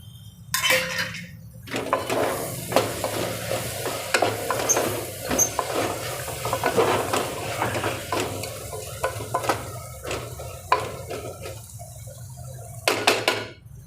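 Paneer and vegetables fry in hot oil in a pan for corn paneer rice, giving a steady close sizzle broken by repeated stirring scrapes and clinks against the pan, with no talking.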